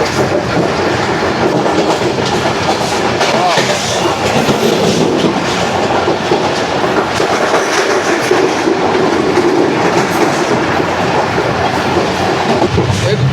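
The Shalimar Express rolls through Mirpur Mathelo station, heard from aboard as a loud, continuous rumble with rhythmic wheel clatter and rattling carriages throughout.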